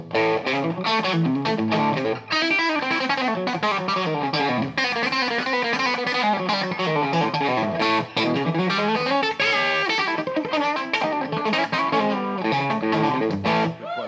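An electric guitar plays with a coil tap engaged for a Telecaster-like tone, a bright run of notes and chords, loud and continuous throughout with no talk.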